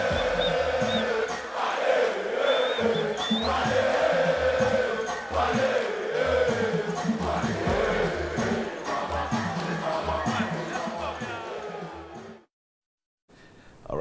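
A charged crowd roars and chants loudly at a concert as a dancehall star makes his entry, the dense cheering sustained with rhythmic thumping underneath before cutting abruptly to silence near the end.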